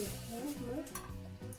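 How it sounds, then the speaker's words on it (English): Onions frying in a pot for pilau rice, a soft sizzle under clattering stirring and the scrape of a utensil against the pot, close and fairly quiet. "So we have to take these onions and we put them back inside."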